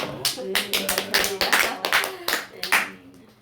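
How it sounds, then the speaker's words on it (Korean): A small group of people clapping in a room, distinct individual claps in a loose uneven rhythm, close and fairly loud, with some talk underneath. "그래서 힘내시라고 박수 한번 해드리자고"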